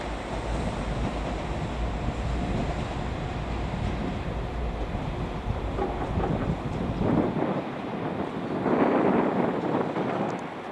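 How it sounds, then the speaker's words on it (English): A Northern passenger train moving through York station, a steady, loud rumble of wheels and carriage noise with heavy wind buffeting, swelling slightly toward the end as the train passes close. "1524 Northern service to Blackpool North."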